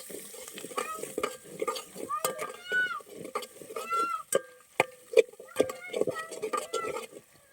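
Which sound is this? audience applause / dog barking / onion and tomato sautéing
onion and tomato sautéing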